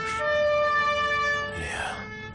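A police car siren wails loud and close with a steady sustained tone, then shifts pitch as it arrives, with no talk over it.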